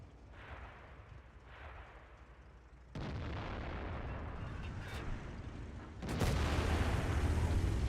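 Heavy tank cannon shots in the video game World of Tanks boom out in two loud blasts about three seconds apart, each followed by a lingering rumble, over a low background din.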